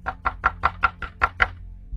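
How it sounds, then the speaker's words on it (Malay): Knuckles knock on a toilet door in a quick run of eight or so evenly spaced, fairly loud raps close by, with no talk over them. "Ketuk lagi. Saya pun tolong diketuk."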